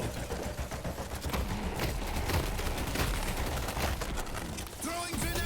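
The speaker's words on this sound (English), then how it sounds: "Those 4 shots would have been enough to kill you." Rapid bursts of gunfire from the Deadlock video game crackle densely and loudly throughout, overlapping with other game effects.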